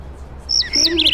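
A little bird chirping in a cartoon, a quick run of thin, high chirps lasting about a second over faint background noise.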